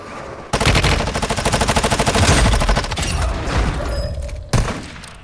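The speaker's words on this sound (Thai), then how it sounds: "ปืนอะไรวะ ยิงหนักจังวะสไนเหรอสไนแน่เลย" Rapid gunfire in the mobile shooter Warzone Mobile, a loud, close burst of fast repeated shots lasting several seconds, then a final heavy shot.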